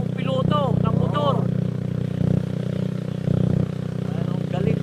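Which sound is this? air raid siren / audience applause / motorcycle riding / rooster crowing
motorcycle riding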